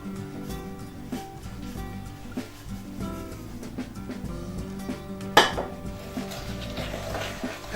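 Sugar being beaten into an almond and cherry loaf cake mixture in a bowl, a continuous clattering, scraping rhythm of utensil against bowl with one sharp louder knock partway through.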